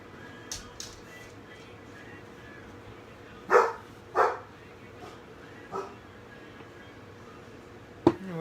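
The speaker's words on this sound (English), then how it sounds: "What is she barking at?" A dog barks a few times at irregular intervals, fairly close, with quiet background noise between the barks.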